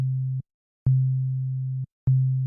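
Steady low sine-like tone from an NI Massive synth patch shaped by its envelope, sounding in three sustained notes with abrupt cut-offs and short silent gaps between them.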